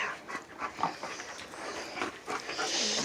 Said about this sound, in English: Yeah, it's my dogs.